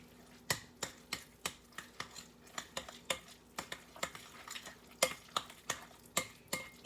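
Tzatziki sauce with sour cream is stirred in a bowl, giving a steady rhythm of close, sharp clicking taps from the spoon, roughly two per second, with no voices.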